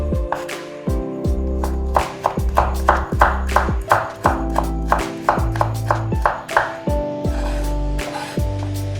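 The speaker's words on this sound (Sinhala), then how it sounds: "දෙකට කපලා ඉස්සෙල්ලා හීනියට පෙති ගහලා ඊට පස්සේ ඒකත් ආයෙ අර විදිහටම කෑලි කපන්න" A knife slicing green papaya into thin strips for a papaya salad, about twenty crisp, regular chops striking a cutting board with a ringing tone, close and loud.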